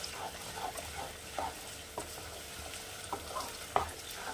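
Chicken meat stir-fried for tehari, with soft sizzling and occasional scraping stirs against the pan at an even, moderate level.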